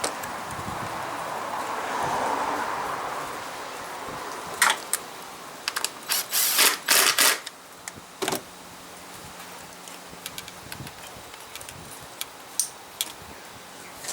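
A new ignition coil pack is fitted and screwed down on a VE/VZ Commodore engine: faint handling rustle, then a close burst of quick ratcheting clicks and taps, later a few scattered clicks.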